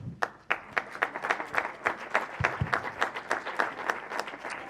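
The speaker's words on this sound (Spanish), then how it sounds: "Un aplauso para Marcos." An audience claps for a speaker at a talk, a modest, distinct round of individual hand claps with an uneven rhythm, close and clear, with no voices over it.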